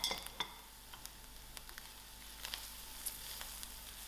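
Masalas and onions fry quietly in a pan, a faint soft sizzle punctuated by sharp clinks and scrapes of a spoon against the metal.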